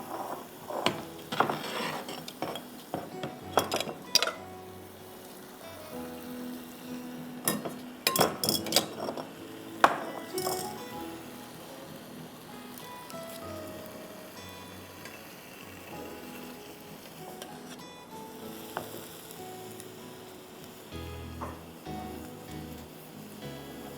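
Chicken pieces sizzle in a hot pan for Schezwan chowmein, a steady low frying hiss with scattered clatter of stirring and utensil scrapes, fairly quiet throughout.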